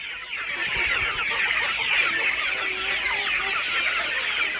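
Desi chickens on a farm cluck and chatter continuously at close range, several birds overlapping in a busy, steady flock murmur with no voices.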